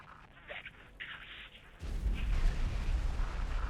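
Spaceship blowing up in the space game X4, a deep rumbling blast that swells in and keeps roaring to the end, after a quieter stretch of in-game tones and chatter.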